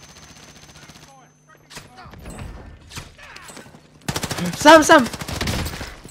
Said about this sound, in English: Bro, he's fucking shooting me.